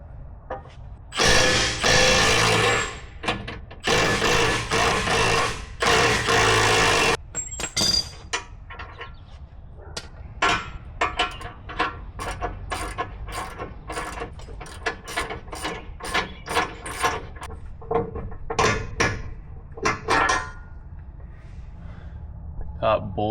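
A ratchet wrench with a 15/16 socket loosens the top bolt on the axle of a 2024 Ford F-250/F-350 Super Duty during a lift kit install, giving bursts of close, rapid clicking with people talking in between.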